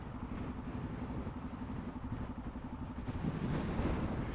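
Strong wind buffets a motorcycle rider stopped at traffic lights during Storm Ophelia, a steady loud roaring rumble with gusts that swell toward the end, no talking.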